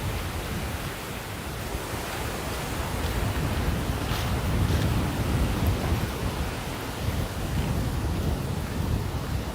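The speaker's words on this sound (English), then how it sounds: "It's a windy ass day" Strong wind in High Park, Toronto, in October buffets the microphone, a constant low rumbling roar with gusty swells and no voices.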